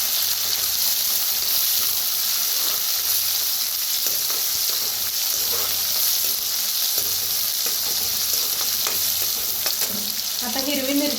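Onion, curry leaves and coriander roasting for pithla in a hot pan, sizzling and frying in a steady, loud hiss with occasional stirring scrapes.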